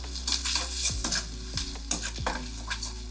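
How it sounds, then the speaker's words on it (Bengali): Dried chilli, radhuni and grated ginger temper in hot ghee and mustard oil in a kadai, a close sizzle broken by several sharp metallic scrapes and knocks of a spoon against the pan. "ফোড়নে দেব শুকনো লঙ্কা, রাঁধুনি আর গ্রেট করা আদা"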